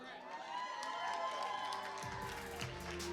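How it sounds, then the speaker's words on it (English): Cheering and applause from the crowd at the Dancing with the Docs 2020 dance show, a steady wash of clapping and shouts that thickens and grows fuller partway through. "big round of applause for our new judge"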